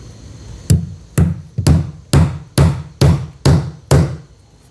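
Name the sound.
hammering a staple near a washing machine box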